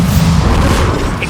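A Bombarda spell goes off in Hogwarts Legacy, a loud deep boom with a rumbling low tail that holds steady for about a second, with no talk over it.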